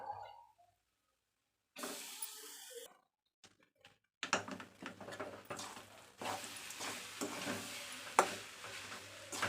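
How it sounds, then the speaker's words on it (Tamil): Cooked rice being stirred with amla in a pan over low heat. Brief clinks and a scrape come first, then a continuous close scraping and gentle sizzle with a steady rhythm. "நல்லா ஈவனாக நல்லா க்ளீனாக கிளறிக்கலாம்"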